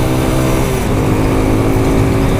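Unico BK 200 supermotard motorcycle engine running steadily with a dense, buzzing, vibrating drone and wind rush, loud and continuous throughout.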